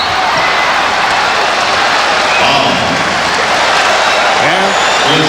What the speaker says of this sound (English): And the applause for Kersey